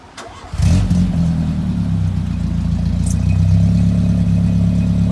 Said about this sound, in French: Est-ce que tu peux démarrer avant que je monte à côté de toi pour... bon, sans accélérer, mais juste, tu sais, les gens aiment bien entendre le ralenti